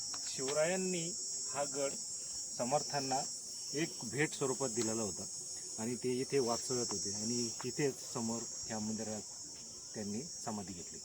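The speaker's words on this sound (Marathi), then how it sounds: "हे बघा रातकिड्याचा असा आवाज येतोय गुंग." At Sajjangad fort near Satara, crickets chirp at night in a constant high, steady drone while someone talks over it nearly the whole time.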